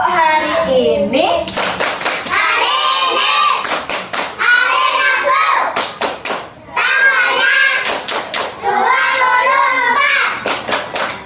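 Children chant and clap in rhythmic bursts during a classroom clap routine, sung voices alternating with short sharp volleys of hand claps, close and lively throughout.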